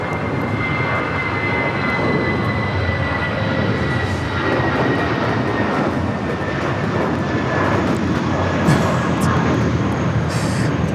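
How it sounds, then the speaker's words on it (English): A Spirit Airlines Airbus A320 takes off from Los Angeles International Airport, its jet engines making a loud, sustained roar with a faint whine running steadily throughout, and no talk over it. "That's Spirit Airlines 2526 taking off to Louisville on the A320."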